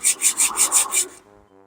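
Rust being scraped off a Suzuki Wagon R MH22S brake rotor: six loud, close, evenly paced rasping strokes, each about a fifth of a second apart, before the scraping stops and leaves near silence.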